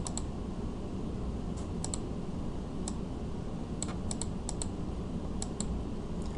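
Sparse, light keystrokes on a computer keyboard, clicking in small clusters and single taps over a soft steady background hiss, with no voices.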